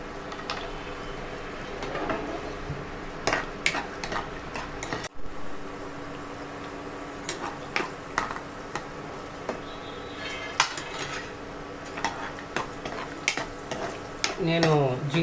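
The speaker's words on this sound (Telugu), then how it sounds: "ఆయిల్ హీట్ అయింది కదా జీడిపప్పు వేయించి పక్కకు పెట్టేసుకుంటాను" Cashew nuts frying in hot oil in a pan, stirred with a spoon that scrapes and clinks against the metal over a steady sizzle, with a few louder taps and a rattle near the end.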